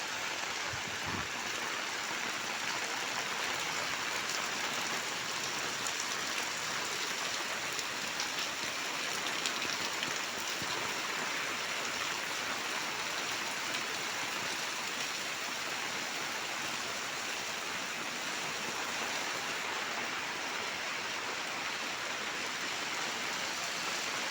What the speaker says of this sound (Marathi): भोरमध्ये असा आत्ता मुसळधार पाऊस चालू आहे